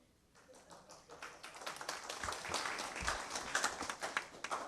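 A small audience at a school board meeting claps steadily, the applause swelling after a quiet start and holding at a moderate level without voices.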